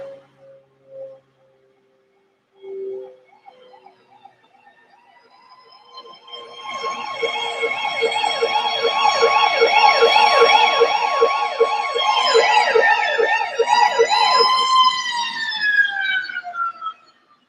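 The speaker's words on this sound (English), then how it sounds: "Here come the sirens." A wailing siren in an album recording rises and falls in rapid yelping sweeps, growing loud and sustained over about ten seconds before sliding into a long descending wail.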